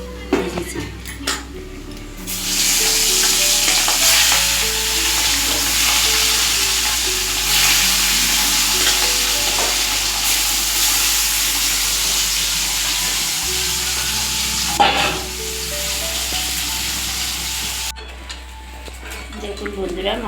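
Tengra fish fry in hot oil with a continuous, fairly loud sizzle, while pots and utensils clink and scrape nearby and a voice talks over it.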